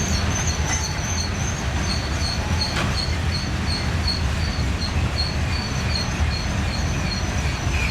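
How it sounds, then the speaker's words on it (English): An eastbound freight train pulled by one locomotive rolls along the tracks, slowing down, with a continuous rumble and rhythmic high squeals from the wheels, close by and sustained. "this train would be slowing down now, being eastbound, head to the Waterloo Yard"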